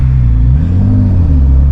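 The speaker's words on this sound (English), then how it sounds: "And you hear the turbos." A tuned 750hp Porsche 911 997 Turbo accelerates hard from inside the cabin, a loud deep engine drone rising in pitch with turbos spooling.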